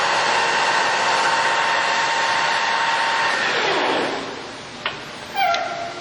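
A Harrison 13x40 metal lathe spins at 1200 RPM with a steady, loud broadband whir that holds evenly, then drops away as the spindle slows near the end, leaving a couple of brief clicks and a short mechanical squeak.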